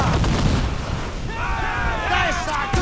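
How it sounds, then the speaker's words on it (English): Ship cannon fire from the naval combat of Assassin's Creed IV Black Flag, heavy booming blasts layered over dense battle noise and music, with a voice speaking over part of it. "Sound of the ship cannon!"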